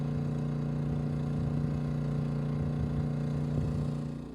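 Maxpeedingrods 4000GT portable inverter generator running near its 4,850 RPM maximum, a steady close engine drone with a strong low hum that holds even before easing slightly at the end.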